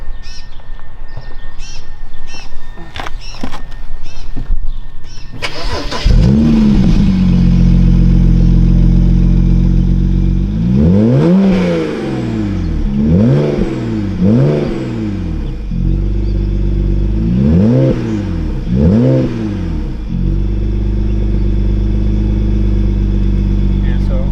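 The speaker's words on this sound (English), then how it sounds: "Start her up. I'm pretty sure this is stock exhaust and stuff. So Sounds really good though." A 2008 BMW 335xi engine with stock exhaust starts with a loud crank, settles into a rumbling idle, then revs up sharply several times in quick bursts, each rise and fall distinct and close.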